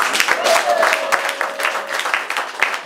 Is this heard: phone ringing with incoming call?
no